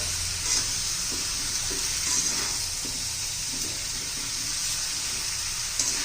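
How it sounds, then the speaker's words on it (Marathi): Fresh village drumsticks being sautéed in a pan give off a steady, bright sizzle, close and even, with faint stirring scrapes underneath and no talking. "परतून घेऊया एखादं मिनिटभर"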